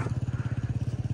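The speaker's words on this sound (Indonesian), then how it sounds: "motor warga" A villagers' motorcycle rides by on a village path beside an inactive railway line, its engine throbbing in quick, even beats at moderate volume from nearby.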